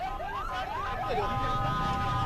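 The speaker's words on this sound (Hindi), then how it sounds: "अभी हमारे सामने एम्बुलेंस आई" An ambulance pulls up at a Lahore hospital carrying people injured in a blast, its siren wailing in rising and falling sweeps close by over a steady rumble of traffic and crowd noise.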